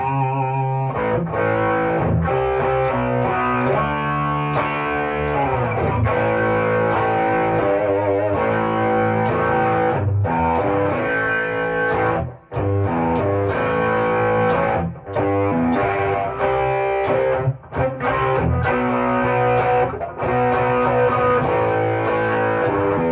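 An electric guitar plays chords and riffs through a gritty overdrive from a Klon Centaur-style overdrive pedal, loud and sustained with brief pauses between phrases.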